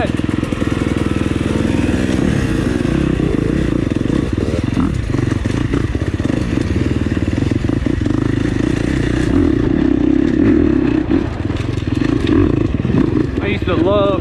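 A 2021 KTM 300 XCW two-stroke dirt bike runs loud and steady for the whole stretch, its engine droning with clattering and rising revs, while people talk over it.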